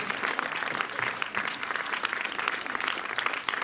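Audience applause at the closing ceremony of a film festival in Montreuil, a steady, fairly dense patter of many hands clapping across the whole stretch, heard alone without talk.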